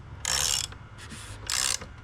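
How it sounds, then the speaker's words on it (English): A ratchet wrench tightens the oil filter cap on a BMW N47 diesel engine, producing two short, close bursts of rapid clicking separated by a brief pause. "we're gonna go ahead and tighten the cap back on"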